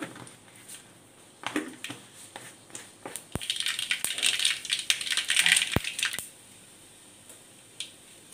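Mustard seeds splutter and pop in hot coconut oil in a home kitchen, a dense burst of sharp, close crackles and snaps peaking midway before thinning to a few scattered pops, with no talking.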